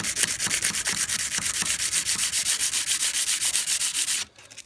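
A knife blade is hand sanded with oiled sandpaper, making rapid, rhythmic back-and-forth rasping strokes, loud and close, about four per second, stopping abruptly near the end.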